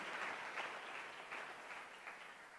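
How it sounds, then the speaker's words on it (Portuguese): Steady, dense clapping from a church congregation, sustained at an even level throughout with no talking. "você pode aplaudir o Senhor?"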